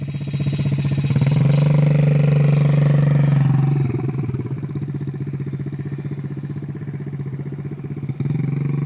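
A 50cc dirt bike engine with a five-year-old rider holds a loud, steady buzzing drone, then drops to a rougher, lower-pitched idle that runs on to the end, with a brief blip near the close.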